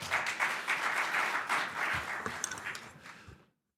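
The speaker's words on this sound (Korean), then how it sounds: "큰 박수로 맞이해 주십시오." Audience at a policy forum applauds to welcome a speaker, a dense round of clapping that holds for about three seconds, thins out, and then cuts off abruptly.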